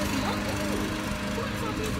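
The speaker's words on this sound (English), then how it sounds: "that baby is moving that lawnmower, ain't she?" A lawn mower cuts grass outdoors, its engine a steady, loud, continuous drone that holds for the whole stretch.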